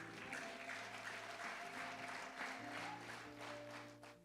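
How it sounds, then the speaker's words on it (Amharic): A church congregation claps together in a sustained round of applause, with a band's organ or keyboard tones holding underneath throughout. "አጨብጭቡ ለጌታ።"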